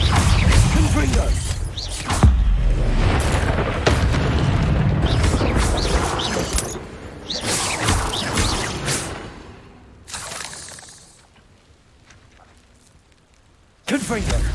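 Fire-spell blasts in Hogwarts Legacy come as booming, whooshing explosions with crackling debris, repeated several times and fading into a quiet gap before one more sharp burst closes it out.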